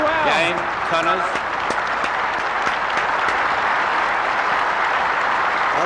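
Crowd applause at the 1975 Australian Open after Jimmy Connors breaks John Newcombe's serve: a dense, steady roar of clapping that holds from start to finish, with a brief whoop or cheer near the beginning.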